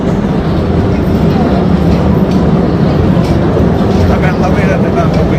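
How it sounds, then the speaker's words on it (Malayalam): A loud, steady rumble and rattle of a tourist train moving through Postojna Cave in Slovenia fills the clip, with faint voices buried under the continuous noise. "ഗുഹയുടെ മനോഹര കാഴ്ച നൽകുന്ന ഒരു ട്രെയിൻ യാത്രയാണിത്"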